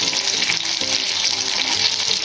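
Fresh fish fries Chennai style in a pan, giving a loud, steady, close-up sizzle that never lets up, with no one talking.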